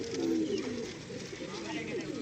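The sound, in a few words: pigeons cooing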